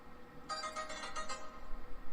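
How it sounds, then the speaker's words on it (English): A phone ringtone plays a short bright electronic melody of several quick pulsing notes. It lasts about a second over a quiet room background. "That was my phone."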